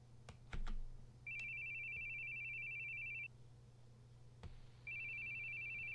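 A phone rings repeatedly in steady electronic bursts separated by a gap, with a few sharp clicks and knocks before and between the rings; no voices.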